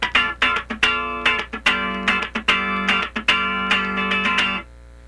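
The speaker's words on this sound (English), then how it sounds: "now let's play a rhythm part that has a little bit longer tone with the left hand" Funk rhythm guitar plays short choppy strums mixed with longer held chords, several ringing out for a beat or more before the next attack, close and clear with no talking, ending in a brief fade.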